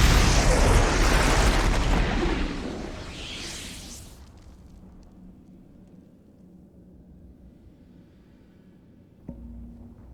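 A loud missile explosion in a Mortal Kombat video game, a heavy roaring blast that fades over about four seconds into low rumble, then a brief thud near the end.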